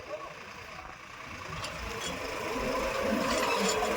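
A 10.5 tractor engine chugs at idle nearby, growing gradually louder over a few seconds, with a busy mechanical rattle.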